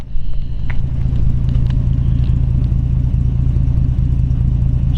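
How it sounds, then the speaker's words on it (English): A 1952 Chevrolet Deluxe two-door with its 216 cubic inch engine runs close up, a loud, steady low-pitched rumble with a faint clatter, holding an even level throughout without clear revs. "We'll actually fire it up and let Joe rev it up for me."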